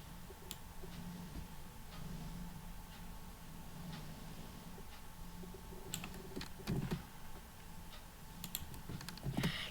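Keystrokes on a computer keyboard while code is typed, a quiet, irregular patter of small clicks over a low room hum, with a few sharper taps bunched toward the end.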